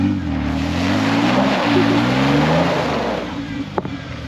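Toyota 4Runner trucks drive along a slick snow trail, their engines producing a steady, loud rumble that swells and rises as they pass close by, with a brief knock near the end.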